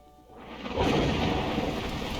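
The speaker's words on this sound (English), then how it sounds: "At that moment, the heavens opened up, unleashing torrential rain." A thunderstorm with torrential rain in the video game Beacon Pines swells from a quiet start into a loud, steady roar of heavy downpour with a rumbling thunder undertone, with no talking.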